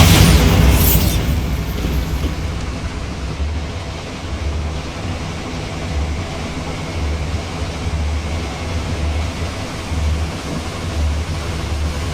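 A Bombarda blast spell in Hogwarts Legacy opens with a loud booming burst, then a sustained low rumbling roar that lingers steadily to the end, with no talking.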